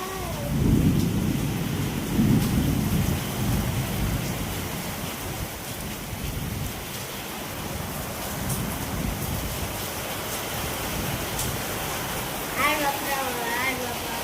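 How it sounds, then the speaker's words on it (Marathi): Steady broadband hiss of heavy rain fills the whole stretch, with a voice speaking over it near the start and a brief sound near the end. "अरे बाबा पाऊस येणार आहे"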